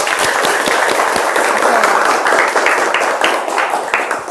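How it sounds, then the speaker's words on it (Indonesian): A classroom of people claps together, a dense burst of applause that holds steady, then thins toward the end. "Tepuk tangan buat kita semuanya."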